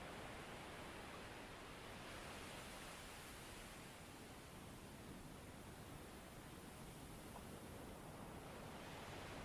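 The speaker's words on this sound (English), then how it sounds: "As the waves continue to surge forward and recede," Ocean waves surge forward and recede in a steady, continuous wash of broadband surf, heard fairly close and alone with no voices.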